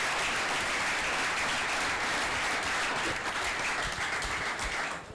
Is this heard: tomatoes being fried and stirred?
no